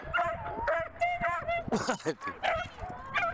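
A beagle gives short yips and high, whining whimpers in quick, uneven bursts close by, with a voice briefly speaking between them.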